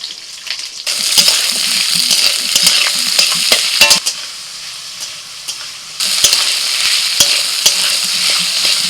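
Onion and potato fry in hot oil with black cumin and dried and green chillies, a steady loud sizzle broken by repeated scraping and clattering of a spatula stirring the pan.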